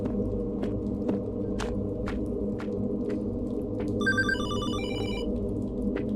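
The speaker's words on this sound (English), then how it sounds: "The phone is ringing." A telephone rings inside the horror video game Hollowbody: a short electronic warbling ring arrives partway through, set over a steady low hum and faint periodic ticks.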